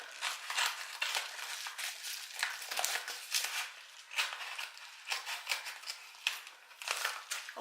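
Scissors snip and plastic crinkles as a mail package from China is cut open, with close, faint crisp cuts and rustling in uneven bursts.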